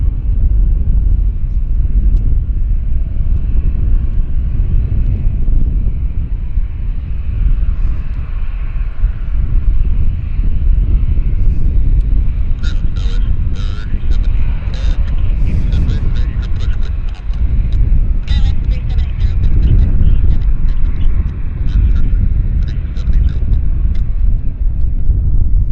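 A heavy jet lands at Vancouver Airport, its deep rumbling engine noise building into a loud roar partway through, with wind buffeting and a voice talking over it.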